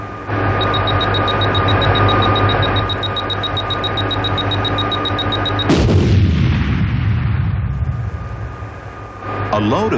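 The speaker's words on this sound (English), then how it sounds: "This lethal wire-guided anti-tank missile uses a 5-inch warhead to bust its way through the thickest armor." A Bradley fighting vehicle fires a wire-guided TOW anti-tank missile with a 5-inch warhead, a loud blast and roaring launch rising over a steady engine drone, then fading into rumbling decay.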